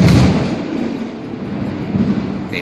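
A deep clap of thunder booms at the start during night rain in Sattahip, then a rolling rumble lingers and swells again near the end over the patter of rain.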